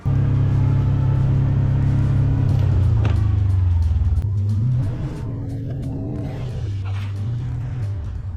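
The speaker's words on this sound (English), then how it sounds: "I'm sure you guys can hear just how windy it is still." Strong wind roars and buffets steadily, a loud low rumble that never lets up.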